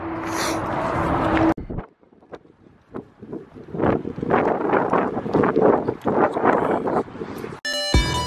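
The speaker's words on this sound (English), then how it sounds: "it's just windy enough out that it's just blowing the scent right away" Wind blows outdoors on a breezy day, gusting against the microphone in uneven rumbling bursts with brief lulls between them.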